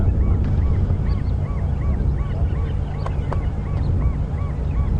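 Geese at Arathusa Dam give repeated honking calls in a steady series throughout, heard alongside thin higher bird calls over a constant rumble of wind.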